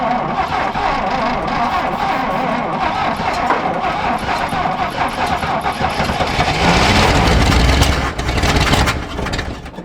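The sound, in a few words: abandoned GMC truck engine cranking, trying to start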